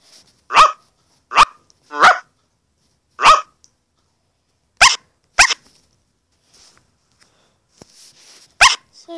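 Cartoon puppy barking in the video game Hi Puppies: seven sharp, loud, isolated yaps spaced irregularly about a second apart, each short and clean against silence, with faint small sounds between them.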